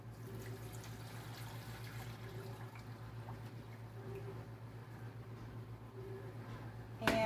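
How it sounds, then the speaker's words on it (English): Four cups of water are poured into a container of ground oat flour, a soft, steady trickle under a low background hum, ending in a brief louder splash. "now that they're ground into flour, we are going to add 4 cups of water"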